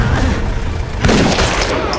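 Gunshots ring out in a movie fight scene, with a dense burst of blasts and booms over a loud, rumbling backdrop, the shots thick and overlapping rather than cleanly separated.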